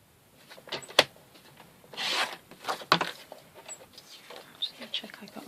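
Sheet of paper being cut to 142 millimeters while making a one-sheet box: a few brief rasping, scraping strokes, the longest a soft hiss lasting about half a second, close and fairly quiet.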